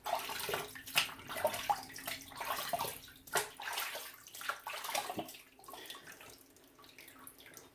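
Tap water runs and splashes irregularly as a face is rinsed after a shave, with close, uneven gushes and sloshes that fade toward the end.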